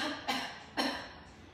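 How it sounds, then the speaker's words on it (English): During a Pilates fascia stretch session, someone gives two short, soft coughs about half a second apart in a quiet room. "Give yourself a little cough."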